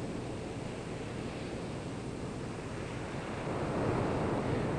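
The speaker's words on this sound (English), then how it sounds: "Ocean waves breaking on the shore have always fascinated man." Ocean waves break steadily on a shore in a continuous broadband roar, loud and close, with the surf swelling slightly toward the end and no voices.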